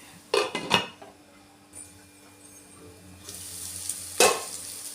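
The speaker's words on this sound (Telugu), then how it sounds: "ఇలా కలుపుకొని మూత పెట్టుకోవాలి" Amaranth leaf and potato curry is stirred in a pan, with a few sharp utensil scrapes and knocks early on and a clatter near the end as a lid goes on, over a faint background hum.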